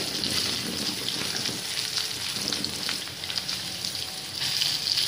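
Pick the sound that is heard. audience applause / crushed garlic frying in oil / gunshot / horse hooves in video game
crushed garlic frying in oil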